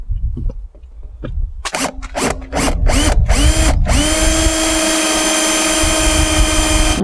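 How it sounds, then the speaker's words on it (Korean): A power drill bores a hole in a plastic water tank, with several short stuttering bursts of the motor building up, then a loud, sustained whining drill run close by. "자, 여기다 뚫어주면 되고."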